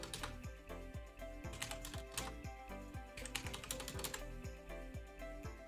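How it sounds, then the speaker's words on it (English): Rapid, close clicking of fingers typing on a computer keyboard, with uneven bursts of keystrokes and brief pauses, and no voices. "So I'm just typing these in."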